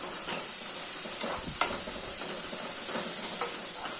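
Onion and carrot sautéing in a pan with a little salt, a steady soft sizzle with occasional stirring scrapes and light clinks of a spoon against the pan, close by and without talk.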